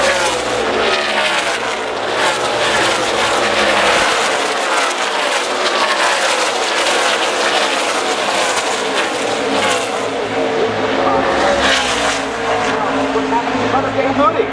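NASCAR Xfinity Series stock cars race at Pocono Raceway in Pennsylvania, their loud, continuous engine roar sweeping steadily past with rising and falling pitch. A commentator talks over the sound throughout.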